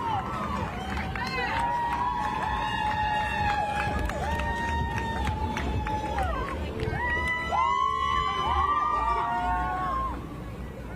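Crowd noise from spectators lining the course of the Cooper River Bridge Run, a steady roar of cheering and hubbub for runners with whistle-like tones rising above it, while a commentator talks over it throughout.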